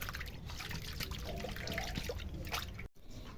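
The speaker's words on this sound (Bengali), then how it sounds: "এবার আমি ভালো করে পরিষ্কার করে ধুয়ে নেব।" Cut fasha fish being washed under running water, making a steady trickle and splash with light handling sounds, close and continuous, ending abruptly.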